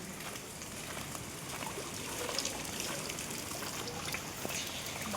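Steady rain falls across a wet area in Alibag, a dense continuous patter and trickle of water with no voices, fairly even in level throughout.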